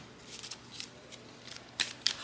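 Tarot cards from a card deck being drawn and laid out on a table, producing soft papery slides and a couple of sharper flicks near the end, close but quiet.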